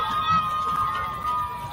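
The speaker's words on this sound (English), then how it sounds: "You hear the crowd going." A crowd at a high school varsity football game, Glencoe-Silver Lake against Watertown-Mayer, roars steadily in the distance, a continuous wash of cheering and shouting.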